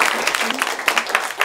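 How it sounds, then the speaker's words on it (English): A panel audience at a women-in-media event gives a short burst of applause, scattered claps rising and falling briefly, with the sound fairly close and fading quickly. "I just want to invite everyone to give the panel a round of applause,"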